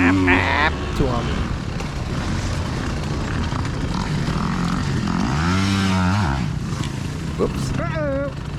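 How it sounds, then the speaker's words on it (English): Yamaha YZ125 two-stroke dirt bikes racing on a trail ride, their raspy engines rising and falling in pitch as they rev, nearby and loud throughout. "You definitely tell those YZ125s, those things got a raspy little"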